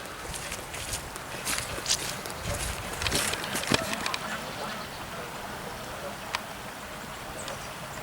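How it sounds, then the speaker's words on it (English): Ducks quack faintly at Lleweni Hall: scattered short calls over a quiet outdoor background, with a few sharper sounds nearby. "Ducks and stuff."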